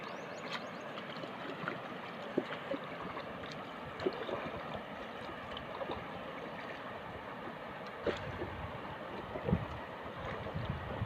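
A small wooden bangka outrigger boat moves across the water with a steady low rumble. Wind and splashing run under it, with a few soft knocks. The whole sound is faint and distant.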